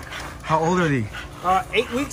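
Eight-week-old Exotic Bully puppies let out a brief, high whimpering yip, followed by a couple of shorter squeaks, close by amid people talking.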